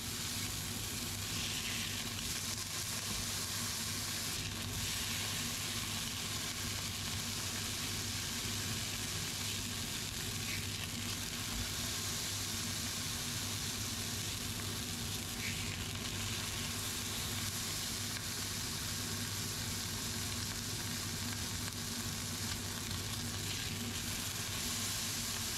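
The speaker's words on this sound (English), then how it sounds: "That noise is the extractor fan." A kitchen extractor fan runs with a constant steady hum over smash burgers frying in a pan, which give a continuous sizzle and crackle. The two sounds hold at an even level throughout with no one talking.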